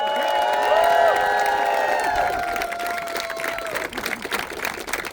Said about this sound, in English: So can I get a big round of applause for Kate?